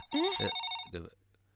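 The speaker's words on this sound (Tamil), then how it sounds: "அண்ணி ஃபோன் அடிக்குது, எடுக்க மாட்டீங்களா?" A telephone rings indoors in a household scene, two short bursts of a bright electronic ringtone heard close and clear, with a quiet pause after.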